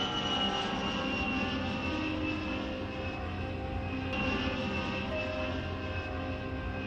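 A passenger airliner taking off for London roars with a steady, broad engine rumble that stays loud and even throughout, with no voices.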